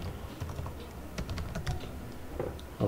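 Fast, light clicking of keys on a computer keyboard as a policy name is typed, a steady close patter of keystrokes with a few brief pauses and no talk.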